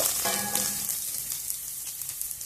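Onion pieces frying in a pan for carrot rice, a close sizzle with quick stirring scrapes and a brief metallic ring near the start, then softer crackling for a couple of seconds, no talking.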